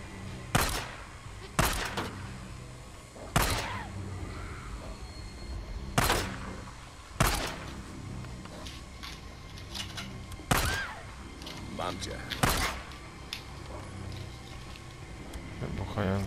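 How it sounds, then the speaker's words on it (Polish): Explosive charges in the video game Days Gone go off one after another, about eight sharp blasts at irregular intervals, over a low continuous background rumble. "Wybuchające ładunki."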